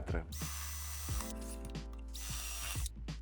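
A power drill with a 4.5 mm bit whirs close by in short whining bursts as it bores through a wooden drawer front, with brief pauses between runs.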